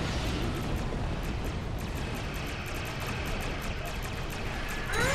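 Klingon missiles exploding in the Star Trek Online space combat game, a dense unbroken roar of rumbling blasts with faint rapid ticking on top, loud and continuous throughout.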